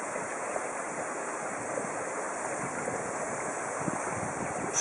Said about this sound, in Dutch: Even een riviertje oversteken.